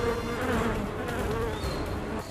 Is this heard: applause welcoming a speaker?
no